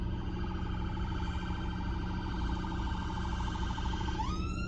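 An ambulance siren on a road wails with a steady, loud, repeating tone that jumps higher in pitch near the end, heard over low traffic rumble with no talk.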